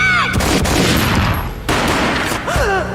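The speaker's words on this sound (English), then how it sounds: "A gunshot boomed and she fell down in slow motion." Gunfire in the Max Payne video game booms as two sharp, loud blasts about a second apart, each trailing into a rumbling echo, with brief tonal game sounds at the start and end.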